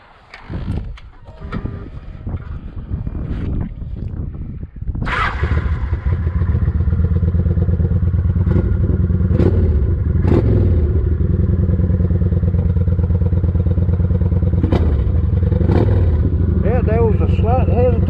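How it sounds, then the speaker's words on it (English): A 2007 Kawasaki Vulcan 900 motorcycle with its restrictor butterfly removed starts up with clatter and thumps, then rumbles loudly and steadily as it rides, with throttle blips and rising revs close by. "first test ride with the baffle, or the not the baffle, but butterfly is out"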